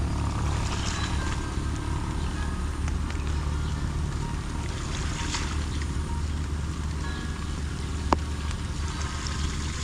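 A motorboat on a fish pond on a rainy day, a steady low engine drone with wind and rain noise throughout, fairly loud and unbroken, with one sharp click near the end.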